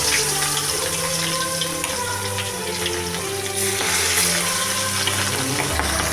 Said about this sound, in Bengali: আমি কড়াইয়ে তেল বসিয়ে দিয়েছি এবার আমি মাছগুলো এক এক করে দিয়ে দেব